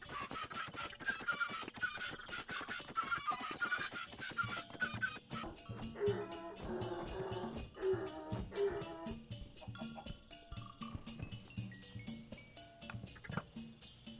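Chickens in Minecraft Bedrock, in a jungle world, cluck in a steady stream of short repeated calls that layer over one another, fairly loud and continuous with no talking.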